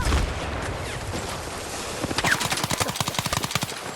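Rapid automatic gunfire from a gun in Battlefield 6, starting midway as a dense run of sharp, loud shots over ongoing battlefield noise, with a quieter stretch of ambience before it.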